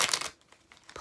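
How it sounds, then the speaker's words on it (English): A deck of cards being shuffled thoroughly: a short burst of crisp riffling and fluttering card noise up close, followed by faint soft rustles, with no talking. "I'm gonna shuffle these so thoroughly. I'm shuffling so thoroughly."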